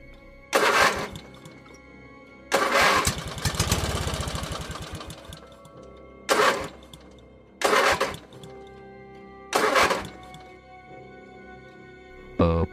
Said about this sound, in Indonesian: motor itu coba dinyalakan, namun tetap saja tidak bisa.